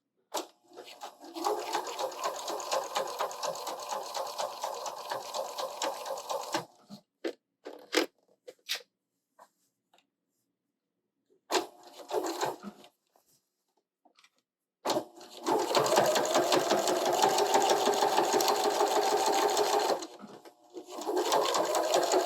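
A sewing machine stitching binding onto a quilt, running in long steady bursts of rapid mechanical whirring, with pauses, a few clicks and short runs between them, close and clear.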